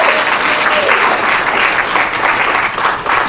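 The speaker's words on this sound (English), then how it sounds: "Give a round of applause to Miss Little for her passionate involvement." Steady, loud applause from an audience at a community conversation event, sustained clapping filling the whole stretch without pause.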